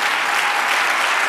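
A church congregation applauds in a dense, even roar of many hands, loud and continuous without pause.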